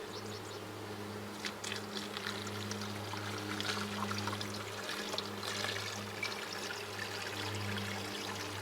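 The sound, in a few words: pouring sugar water into beehive feeder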